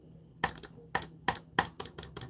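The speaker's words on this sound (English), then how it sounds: "Yes, mouse clicks." Sharp clicks from a computer mouse ring out as a handful of distinct taps in uneven pairs and singles, close and crisp against a quiet background.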